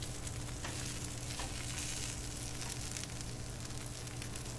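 Bacon and hash browns sizzle steadily on a 22-inch Blackstone griddle, a constant dense crackling hiss with occasional small pops and no talking.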